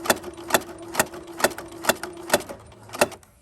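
A sewing machine stitching forward along a winter headband seam, needle punching in a steady quick rhythm of about two strokes per second, close and clear with no speech.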